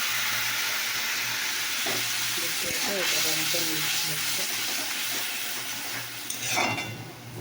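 Water poured into a hot pan with turmeric, a steady loud hiss and sizzle that carries on throughout, with a person talking over it and a brief clatter near the end.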